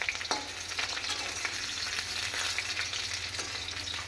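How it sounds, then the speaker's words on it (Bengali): Potatoes frying in a pan, a steady close sizzle with soft clicks of stirring, alone without talk. "আলুটাকে ভেজে নিচ্ছি"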